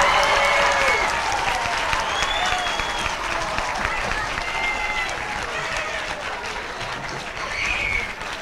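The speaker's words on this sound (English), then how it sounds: "give another round of applause to both of these guys." A school audience applauds the winner of a seventh-grade spelling bee, a dense, steady round of clapping that starts loud and eases slightly, with faint voices and cheers mixed in.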